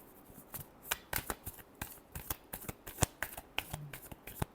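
A deck of tarot cards gets a final shuffle, a close, busy patter of quick card riffles and soft slaps in uneven bursts, alone with no voices.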